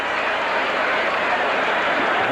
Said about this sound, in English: listen to that crowd here at Hiram Bithorn Stadium